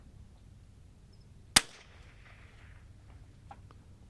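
A single .308 Winchester rifle shot cracks out sharply at an outdoor range, a loud close report with a brief echoing tail over faint background noise.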